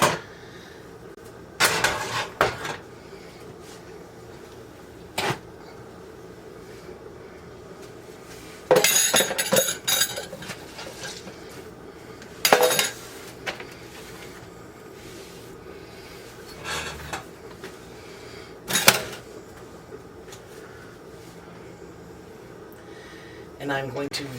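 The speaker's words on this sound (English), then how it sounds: "I'm going to move my pot of soup" A pot of soup is moved on a home stove, giving a handful of scattered clinks and metal scrapes of pot against grate, separated by quieter gaps, with a voice talking throughout.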